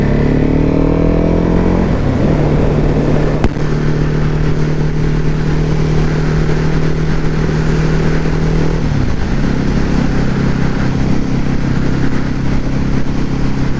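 A newly delivered motorcycle ridden at steady speed, its engine droning loud and close with a shift of pitch as the revs change, steady wind noise throughout and no talking.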